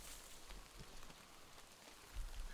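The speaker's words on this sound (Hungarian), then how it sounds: "Elkezdett esni az eső." Steady rainfall in Metro Exodus, a faint, even patter of raindrops on surfaces with a low rumble swelling near the end, no talking.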